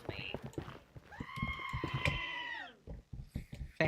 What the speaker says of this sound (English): Fucking screaming goat.